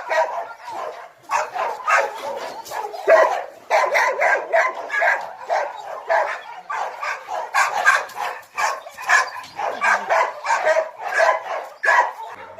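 Many hunting dogs at a kennel in Yakutia bark in rapid, overlapping bursts, some yips mixed in, loud and close, continuing without pause throughout.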